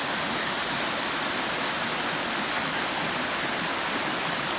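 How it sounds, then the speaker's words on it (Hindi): Jungle waterfall near a village in Baloda Bazar district, a steady broadband rush of falling water that holds constant and loud throughout with no voices. "झरना भी अच्छा है"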